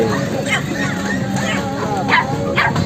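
Several dogs bark and yip in short bursts amid a busy outdoor crowd at the Maghi fair horse market in Muktsar, with voices murmuring underneath.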